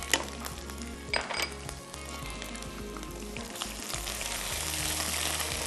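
Onion, garlic-ginger paste, chili paste and fenugreek seeds frying in a pan, a continuous close sizzle with a couple of sharp utensil clinks early on, no voices.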